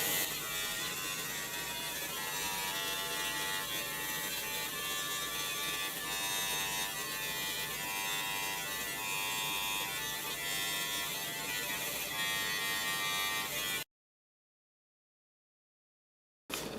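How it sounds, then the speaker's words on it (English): A small electric hair trimmer buzzes steadily and close up while cutting a star design into hair, a continuous bright whine that runs for about fourteen seconds and then stops. "we're going to use a smaller trimmer to clean out the inside of this"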